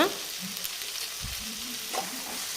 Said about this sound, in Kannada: ಇದನ್ನ ಇವಾಗ ಮತ್ತೆ ಒಂದ್ಸಲ ಚೆನ್ನಾಗಿ ಫ್ರೈ ಮಾಡ್ಕೊಳ್ಬೇಕು